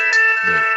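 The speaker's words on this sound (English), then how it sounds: "that was my phone, and I thought I had it turned off" Mobile phone ringtone going off indoors as a steady electronic tone with several sustained pitches, heard close and loud, with a man's brief spoken word and a low voice-like hum under it.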